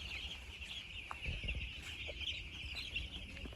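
A mass of day-old chicks chirps on a poultry farm, a faint, dense and continuous high peeping with occasional soft thumps underneath, no talk.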